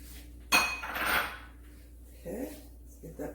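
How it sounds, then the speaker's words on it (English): Oil blended by hand into cornmeal and flour in a mixing bowl for cornbread, starting with a sharp knock of utensil on bowl followed by scraping, stirring sweeps and a few softer clinks, close and alone. "Get that oil blended in real good."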